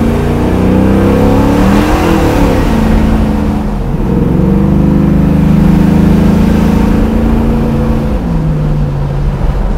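A 600 HP cammed LS V8 in a 1966 Chevelle restomod on a Roadster Shop chassis rumbles loudly from the cabin while driving, its pitch rising and falling through gentle rev swells.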